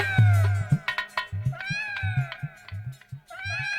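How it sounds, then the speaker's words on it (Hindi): A cat meows repeatedly up close, a string of short plaintive cries with brief pauses, over a low rhythmic background. "लेकिन महाराज बिलैया घर में रोई रही है"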